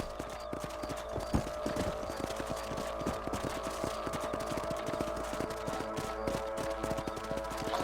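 Horse hooves from the video game Red Dead Redemption clip-clop in a steady, continuous rhythm over a low ambient hum, clear and moderately close, with no talking.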